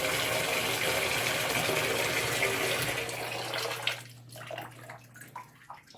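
Water gushes from a tub faucet into a container to submerge freshly spun yarn, a loud steady rush for about three seconds that then thins into softer splashing and trickling, with no talking.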